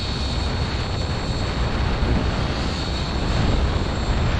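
RC helicopter flying loops, a continuous loud rotor and engine drone close by with no pauses.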